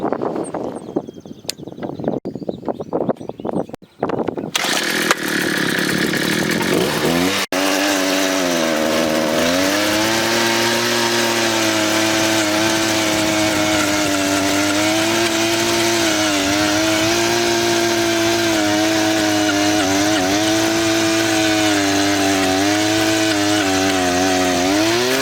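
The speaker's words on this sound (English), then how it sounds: "Today we're going to be testing the Garden Trax earth auger." A Garden Trax 43cc gas earth auger, used for pasture fence repairs, starts with a few rough pulls and sputters, then roars into a loud, continuous two-stroke drone that rises and dips slightly under load.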